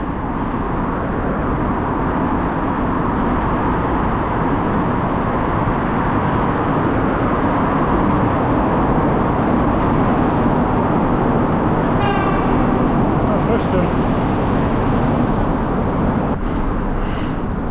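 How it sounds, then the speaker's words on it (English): A car approaches on a road in the Dolomites or Alps with a loud, continuous roar, heavy and rumbling like a freight train, steady throughout with a brief high squeal near the end. "I can't see the car and I can already hear it super loud right now."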